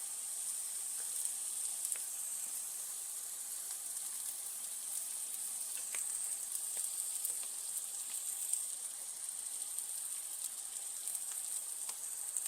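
Steady, continuous sizzling of fresh-ground bacon and chuck burger patties frying in a pan, a bright crackling hiss with occasional sharper pops, no voices.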